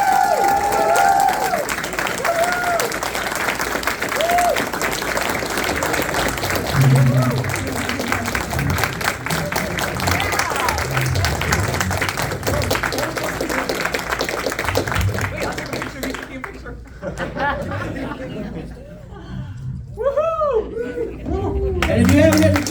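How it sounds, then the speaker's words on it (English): Convention audience applauding at a Toxic Avenger panel celebrating Troma at TerraCon, a long, full round of clapping with cheers and chatter, then thinning out as people begin talking. "Let's give one more round of applause."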